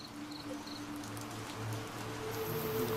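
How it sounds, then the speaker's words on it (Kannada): Heavy rain falls at night on a forest campsite, a steady, even patter of drops on surfaces heard from a distance, fairly soft and continuous with no voices. "ಜೋರು ಮಳೆ ಸ್ಟಾರ್ಟ್ ಆಗೇ ಹೋಯ್ತು."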